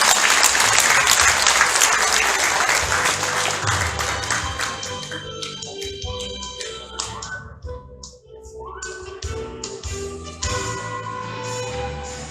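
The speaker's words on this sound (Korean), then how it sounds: "큰 박수 부탁드립니다." Audience applause at a Korean commemorative event for White Cane Day, a dense sustained clapping from a crowd, loud at first and easing slightly, continuing with scattered claps and background music.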